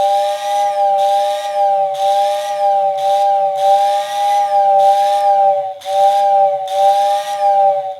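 A Lionel whistle tender toy train whistle, rewired to AC and run from an old Lionel switch controller, blows a loud steady two-tone whistle over a humming motor, pulsing in about eight short bursts with a faint rhythmic warble underneath.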